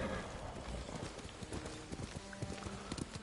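Steady clip-clop of a horse's hooves at a brisk gait while riding in Ghost of Tsushima, close and continuous, with a faint whinny.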